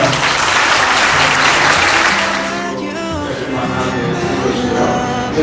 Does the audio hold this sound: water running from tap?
no